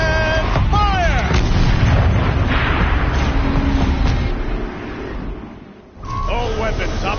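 In the video game Horizon Zero Dawn, a turret fires a loud, booming artillery-like blast that rolls on for several seconds and then fades, with voices heard over the noise.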